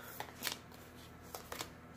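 A deck of cards is riffled and shuffled in a few quick, soft bursts, close by, with quiet between them.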